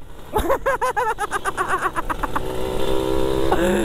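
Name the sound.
motorcycle racer riding ahead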